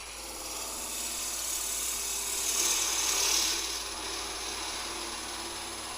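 A wood lathe spins a wooden Easter egg blank, giving a steady, even whirring drone with faint rubbing and tool scraping that swells briefly midway.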